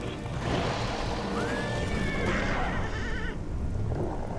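A horse whinnies in the video game Castlevania: Lords of Shadow over a steady wash of background noise, its call rising and wavering for a couple of seconds.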